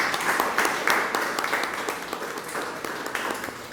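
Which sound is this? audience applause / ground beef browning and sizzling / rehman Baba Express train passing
audience applause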